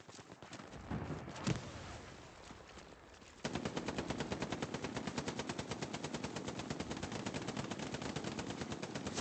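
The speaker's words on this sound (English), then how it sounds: "It's an MG, so be careful." Sustained machine gun fire in the Hell Let Loose battlefield game, a rapid loud rattle of evenly spaced shots running unbroken after a brief rumble of distant gunfire and a single sharp bang.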